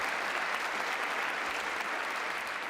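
Steady, dense applause from a State of the Union crowd, even and continuous throughout, with no pauses or voices standing out.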